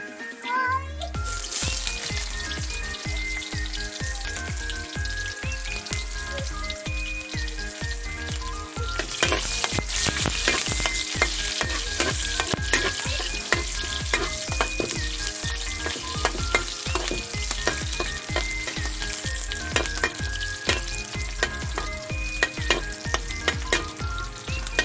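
Chopped onions fry and get stirred in a pan while native mushrooms are being cooked in Bohol, Philippines: a steady sizzle with frequent scraping stir strokes, which grows a little louder partway through and runs for the whole stretch.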